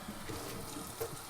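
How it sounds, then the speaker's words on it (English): Water runs steadily from a sink tap during dishwashing, a continuous broadband splash and hiss with a few brief clinks and surges, close and moderately loud, with no one talking. "if you're wondering why the water is running almost all the time"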